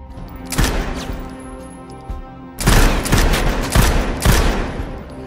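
Bursts of gunfire at a shooting practice range crackle in rapid volleys, a sparse opening followed by a louder dense stretch of repeated sharp shots.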